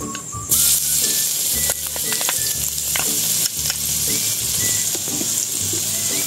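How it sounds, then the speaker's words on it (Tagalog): Garlic sautéing in oil left over from frying chicken, a loud, steady sizzle with scraping stir strokes throughout, louder after the first half-second, and a faint musical background beneath. "sa ating pinagprituhan, binawasan ko lang ng mantika, mag-iisa na tayo ng bawang."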